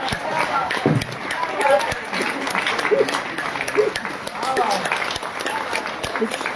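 At a Hindi literary award ceremony, an audience rises for a standing ovation, and continuous applause runs throughout with voices talking over it.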